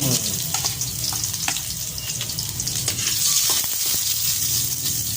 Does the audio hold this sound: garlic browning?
yes